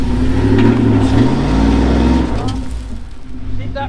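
Lincoln Navigator engine revving hard under throttle, a loud, sustained low roar that rises in pitch and then eases off, with people talking over it.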